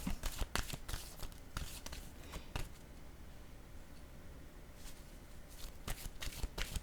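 A deck of tarot-style cards riffled and handled in repeated quick shuffling bursts, close and crisp, with quieter handling in between and no talking.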